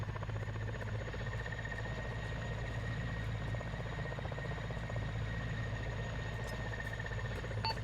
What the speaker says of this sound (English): Okay, that helo landed on the southeast